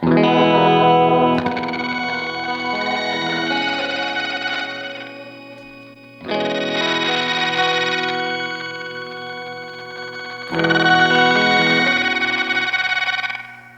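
Electric guitar run through a pedalboard of boutique effects pedals, heavily distorted with chorus and echo, three loud sustained chords each ringing out and decaying, with no voices.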